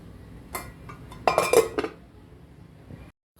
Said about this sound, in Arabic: انا بحط عليه غطا كده وهو بيستوى عشان يستوي منه فيه بالبخار بتاعه